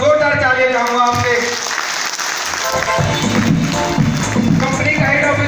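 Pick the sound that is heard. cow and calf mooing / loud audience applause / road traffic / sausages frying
loud audience applause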